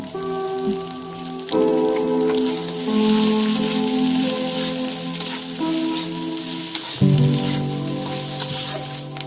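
Beaten egg fries in oil in a pan for egg pasta, a loud continuous sizzle like rain with stirring, louder after more oil is added, over a faint tonal background.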